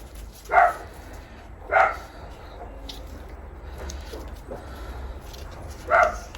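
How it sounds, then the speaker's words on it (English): A dog barks three times at a distance, single sharp barks spaced a few seconds apart over a quiet background hum. "She's barking at somebody getting in their car and driving past."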